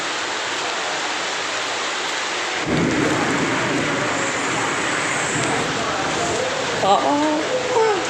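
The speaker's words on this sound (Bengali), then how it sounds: "সেই লেভেলের বৃষ্টি যা গুরুম গুরুম হয়েছে" Heavy rain pours down in a steady, loud hiss, and a deep rumble of thunder rolls in partway through and lingers under the downpour. A faint voice may be heard near the end.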